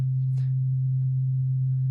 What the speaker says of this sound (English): If I play a note at a single frequency, which is a sine wave